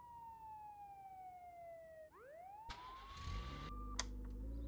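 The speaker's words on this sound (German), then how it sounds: "ich muss mal hier die Sirene ausschalten" A police car siren in the video game Contraband Police wails in long, steady, falling tones, then sweeps upward before cutting out abruptly into engine and driving noise.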